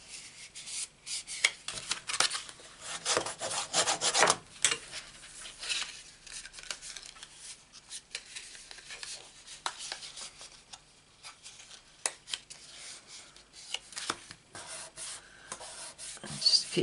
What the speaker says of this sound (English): keep rubbing it till it dries